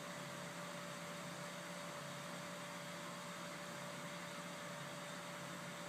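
Weil-McLain GV-3 gas furnace drawing air before ignition: a steady, faint whooshing hum with a constant tonal whine, running evenly throughout with no other sounds.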